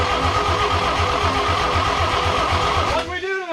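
A 1954 Chevy Bel Air, idle for four years, cranks with a rapid rhythmic starter churn that runs loud and close, then abruptly cuts off into a short fading ring.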